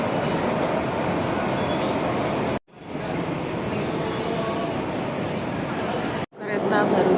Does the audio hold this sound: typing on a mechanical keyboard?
no